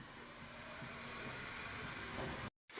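A cooking stove burns with a steady, broad roaring hiss. The sound holds at an even level until a short silent break near the end, then resumes, with no talking.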